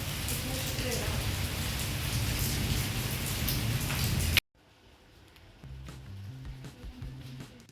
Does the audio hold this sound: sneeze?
no